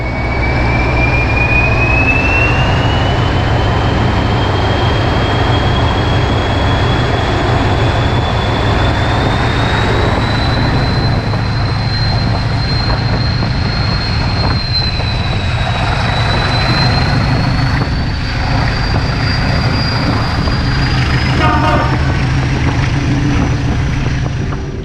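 A Comboios de Portugal interregional train running on the Douro Valley line, heard from inside as a loud, steady rumble and rattle with a rising whine, continuous throughout.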